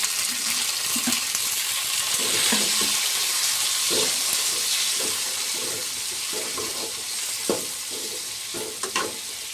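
Chopped tomatoes frying in a pan for a brinjal bhaji, producing a loud, continuous hissing sizzle broken by a series of soft scraping stirs and clatters, with no voices.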